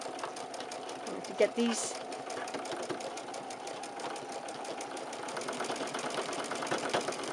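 A sewing machine stitches a quarter inch quilt seam in a steady, fast, fairly quiet mechanical whir, with one short spoken phrase over it early on.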